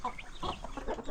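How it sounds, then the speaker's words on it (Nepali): Chickens and their chicks drinking water give short, scattered clucks and peeps at moderate distance, a few quick calls in a second with no talk. "कुखुराको नि चल्लाहरूले पानी खाँदै रहेछ"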